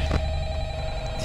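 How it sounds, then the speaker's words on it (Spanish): An old-style telephone rings in the security office of the horror video game Five Nights at Freddy's, a steady electronic ringing tone over a low droning background hum, continuous throughout. "Nos está llamando por teléfono."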